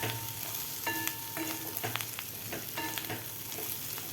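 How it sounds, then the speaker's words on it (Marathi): Brinjal bhaji with plenty of chopped coriander stirred in a hot pan: a continuous close sizzle with repeated scraping strokes of a spatula and small metallic ticks, no voices. "परत एकदा आपण मिक्स करून घेऊया यामध्ये घालायची आपल्याला खूप सारी कोथिंबीर परत एकदा मिक्स करून घेऊया"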